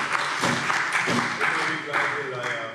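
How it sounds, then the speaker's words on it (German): Applause in a German parliament plenary session, a steady patter of many hands clapping with voices talking over and through it. "Applaus"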